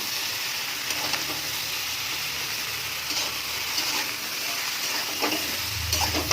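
Sliced okra and pumpkin sizzle steadily in an uncovered pan, seasoned with turmeric and salt, while a spatula stirs through them with a few soft scraping strokes over the continuous close frying hiss.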